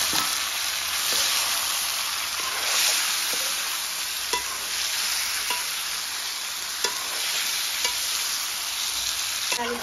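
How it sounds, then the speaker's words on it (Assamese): Boiled pork frying and being stirred in a pan with tomatoes and spices: a steady broadband sizzle with scattered scraping knocks of the spoon, close and continuous, no talk. "ভালকৈ ভাজি লগাইছোঁ।"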